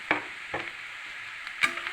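Onion, green chili, coconut, cumin, garlic, curry leaves and dried red chilies are stirred in hot oil, making close sizzling and scraping bursts, two quick ones and then another after a short pause.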